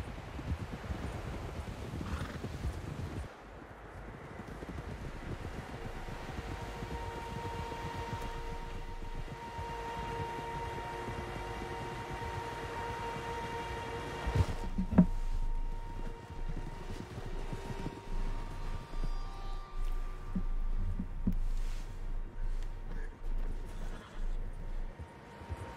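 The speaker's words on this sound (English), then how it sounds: "Tracks, horses, quite a few of them." Horses in Red Dead Redemption II neighing and clip-clopping across a lakeside landscape, hoofbeats steady under a low ambient hum and music, with a louder accent midway and the galloping growing busier toward the end.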